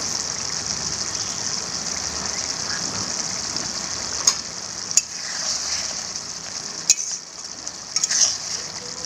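Chenga fish chilli curry simmering and sizzling in a pan, a steady bubbling hiss throughout with a few sharp clinks of a utensil against the pan.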